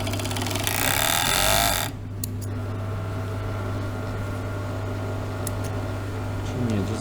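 A sewing machine runs in one steady burst of about a second and a half while stitching the edges of fabric for tailored shorts, then stops, leaving a constant low hum and a few faint clicks.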